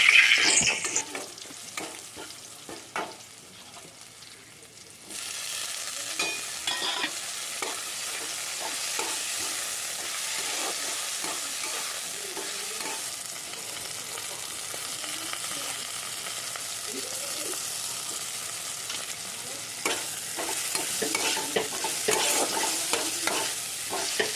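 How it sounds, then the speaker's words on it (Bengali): Crushed garlic and slit green chillies frying with nigella seeds in hot oil in a wok, a steady sizzle that jumps louder a few seconds in, with scattered stirring scrapes throughout. "কড়াইতে তেল গরম করে একটু কালো জিরে দিয়েছিলাম তারপরে থেতো করা রসুন আর কাঁচা লঙ্কা দিয়ে লাল লাল করে ভেজে নিয়ে"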